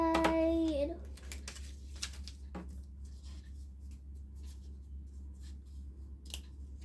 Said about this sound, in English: Now let's cut the other side.